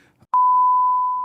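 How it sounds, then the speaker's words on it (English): A loud, steady electronic censor beep, a single pure sustained tone lasting about a second after a brief murmur, masking a spoken client's name. "beep कर देना उस client के नाम पे"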